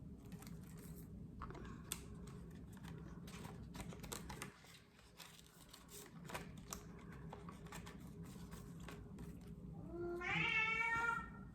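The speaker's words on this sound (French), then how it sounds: "vous entendez mon chat qui n'est pas content" An unhappy cat lets out a rising, drawn-out meow close by near the end, after a stretch of steady keyboard-like tapping and low background hum.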